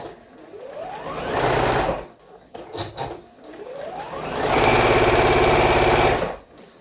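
Sewing machine stitching across a seam on a quilt block, two sustained runs of fast mechanical whirring that ramp up in speed, separated by a short pause with a few soft clunks, close and loud with no talking.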